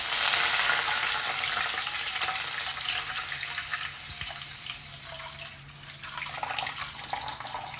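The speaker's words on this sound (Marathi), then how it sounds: "आता याच्यामध्ये पाणी ओतूया" Water is poured into a pan holding a little oil to cook Maggi noodles for two, making a steady rushing hiss that eases off toward the end, with no talking.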